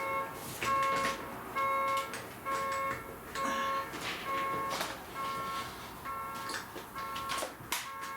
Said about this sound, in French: Ces klaxons-là de système d'alarme, ça m'énerve, ça m'énerve.